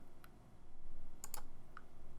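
A computer keyboard or mouse clicking while looking up Dungeons and Dragons lore online gives a few scattered, sharp, moderately quiet clicks over a steady room hum, without speech.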